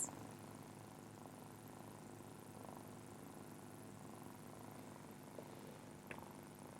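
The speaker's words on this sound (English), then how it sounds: "Can you hear the purring?" A cat's quiet, steady low purr continues throughout, soft and close, with a brief faint click near the end.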